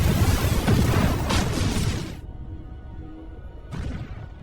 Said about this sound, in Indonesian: akhirnya jebakan yang dipasang broker pun meledak dan membakar seisi pabrik